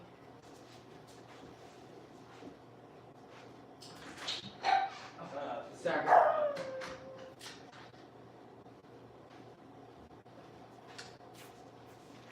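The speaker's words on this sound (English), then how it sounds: "that's my dog in the background" A dog barks and whimpers in the background of a room, giving a short cluster of yelps and barks in the middle amid quieter surroundings, with a person speaking briefly.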